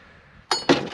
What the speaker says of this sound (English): There's a glass bottle.